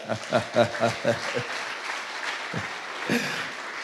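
A church congregation claps in praise of the Lord: a short run of loud rhythmic claps, then a few scattered claps that fade as someone speaks.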